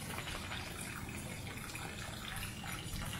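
Water draining out of a soaked outdoor furniture cushion, a steady close-up gush and trickle that stays even throughout with no talking.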